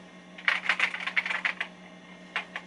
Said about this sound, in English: I'm using my own keyboard because those ones are unknown whether how well they type